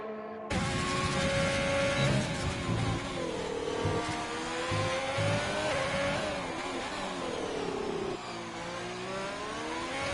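A Formula 1 car's engine at throttle in the F1 2020 video game, Mexico round, screams loud and close, its pitch climbing and dropping through gear changes and lifts before settling lower near the end.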